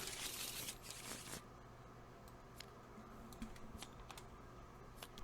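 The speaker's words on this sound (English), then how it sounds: "Shuffle, shuffle, shuffle." Playing cards are shuffled during a tabletop wargame session: a brief burst of riffling rustle, followed by light scattered clicks and taps of handling on a table, close and quiet.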